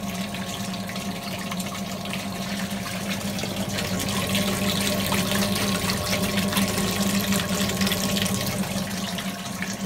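Water from a pressure-relief valve on a hotun hiflo test rig pours steadily through the fully opened valve into a soil stack, a constant close rushing hiss with a low hum beneath and no speech.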